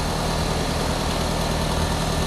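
A 1500 cc Suzuki SX4 X-Over engine runs at idle, a steady, loud, close mechanical drone with a constant low hum and no change in pitch.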